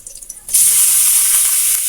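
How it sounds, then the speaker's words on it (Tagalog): Chicken slices drop into a hot pan with sautéed garlic and onion for tinola, a sudden loud burst of sizzling that jumps up and holds as a dense, close, hissing fry. "ilalagay na natin yung ating chicken."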